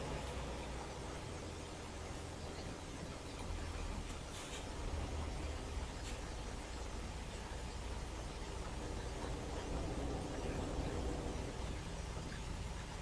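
A truck drives along the highway in American Truck Simulator with a steady, low engine drone and road rumble, quiet and continuous. A few brief clicks sit over it and no one speaks.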